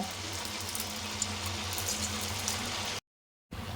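Snack pieces fry in hot oil with a steady, dense bubbling sizzle that lasts about three seconds, breaks off briefly and then resumes, close up and with no talking.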